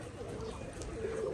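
A pigeon coos softly nearby in a short low murmur, with light background noise and no other calls.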